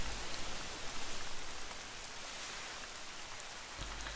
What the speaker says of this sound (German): ich denke, der Regen wird auch gleich wieder aufhören